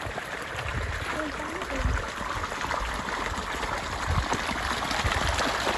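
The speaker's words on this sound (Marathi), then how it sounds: "हे विहिरीचं पाणी" Water drawn from a well runs along a farm irrigation channel with a steady, close babbling and gurgling, and voices can be heard in the background.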